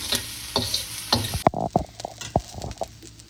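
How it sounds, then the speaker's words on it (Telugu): Ingredients fry in a pan until dark brown for a tilapia fish curry spice paste, a crackling sizzle with several sharp taps and stirring knocks, the hiss falling away partway through while the stirring continues. "ఈ లోపల వీటిని డార్క్ బ్రౌన్ అయ్యే వరకు వేపుకోవాలి"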